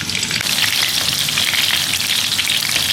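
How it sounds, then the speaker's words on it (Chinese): Scallion, ginger, Sichuan pepper, star anise, bay leaf and garlic sizzle steadily in hot oil in a home kitchen wok, a dense continuous frying hiss with no talking. "把准备好的葱姜还有这个花椒、八角、香叶、香蒜根给它放进去炸一下"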